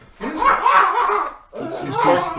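A dog barks and yips in two close bursts, excited and mixed with voices talking nearby indoors.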